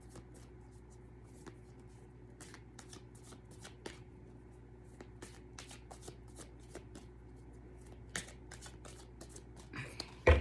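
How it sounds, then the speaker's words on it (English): Tarot cards are shuffled close by in a quiet room, a run of quick papery riffles and soft slaps ending with a louder knock at the end. "So I'm gonna go ahead and shuffle and pull two."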